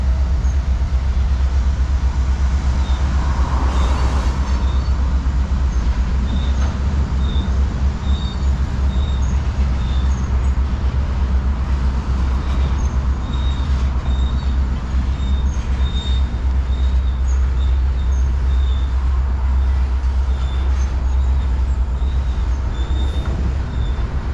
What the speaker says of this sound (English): There's a freight train going across that railroad bridge right there.